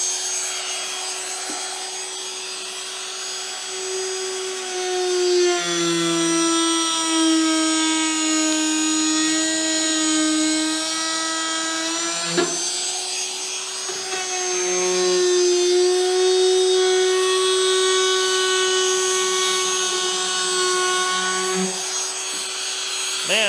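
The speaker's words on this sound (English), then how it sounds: "now I've got the corner rounding bit in here and I've got it adjusted so it should put a nice soft edge on here for me" A router with a corner rounding bit cuts a soft edge along a wooden deck board for a 1983 PolarKraft boat, a loud sustained high whine that dips and shifts as the bit bites, pausing briefly midway before running on.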